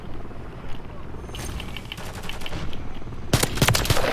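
Video-game gunfire from an MTZ Interceptor rifle in Call of Duty: Modern Warfare III cracks out in rapid bursts over a busy game soundscape, getting louder and denser toward the end, with faint talk in the background.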